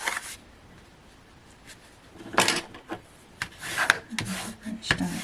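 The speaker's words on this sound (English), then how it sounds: "And this one is going to go up. Again, a good burnish down." Card pieces are being burnished down in a papercraft project, a series of irregular dry rubbing and scraping strokes, close and moderately loud, in short bursts with brief pauses between them.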